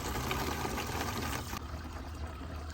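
Water rushes steadily from a fully opened rain barrel spigot, a dense continuous flow that eases slightly partway through, heard alone and close.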